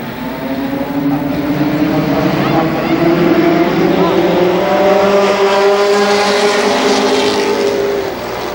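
Race cars in a limited sportsman heat race at Columbus Motor Speedway, engines droning loud and continuous with rising and falling pitch as the pack circles, a commentator's voice running over them.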